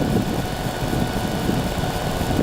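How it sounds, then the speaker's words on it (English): A tow plane for gliders drones overhead, a steady continuous engine hum with no talking over it. "There's another tow plane."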